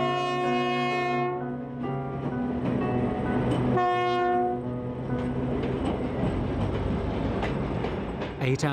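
A Russian train rolls along the track with a loud, sustained horn blast at the start and a second shorter blast midway, wheels rumbling close by underneath.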